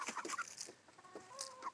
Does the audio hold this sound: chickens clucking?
yes